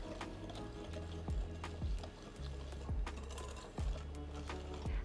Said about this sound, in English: I'm just going to use my whisk to incorporate it